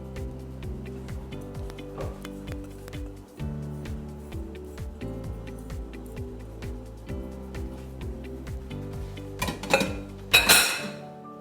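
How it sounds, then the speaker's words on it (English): A utensil stirring white cheese sauce in a pot, with repeated metallic scrapes and clinks in a steady rhythm, close and clear, ending in a brief louder clatter. "we just wanna stir this until the cheese melts and it becomes a nice smooth sauce"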